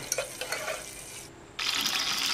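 Whole spices frying in hot oil for a lightly tempered rice dish give a steady sizzle with stirring scrapes, dipping briefly before swelling back into a louder, brighter crackle; no voices.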